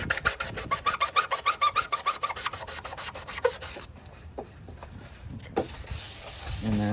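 Hand scuffing on the sail panel of a 1999 Cadillac Escalade: a fast run of rhythmic rasping strokes, close and fairly loud, for about four seconds, then a few scattered scrapes and light handling noises.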